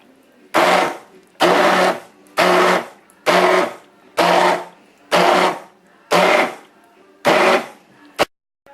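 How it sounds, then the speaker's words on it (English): Blender pureeing a homemade leek and potato soup in eight short, loud pulses, each whirring burst about half a second long with brief pauses between, ending in a quick final blip. "So now that I've blended it to the consistency that we want it"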